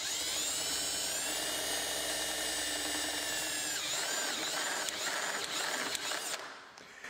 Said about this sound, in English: The best way to do that is to use the unibit instead of just a large drill bit.